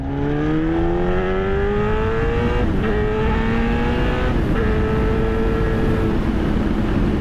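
A Yamaha FZ1N motorcycle pulls hard in second gear, its engine note climbing steadily and loudly, dropping briefly at a shift and rising again, close and continuous with no talking.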